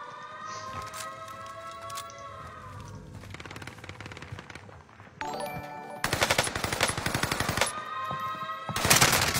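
Video game gunfire: bursts of rapid machine-gun fire alternate with tonal siren-like wails, growing louder and denser toward the end, with no speech.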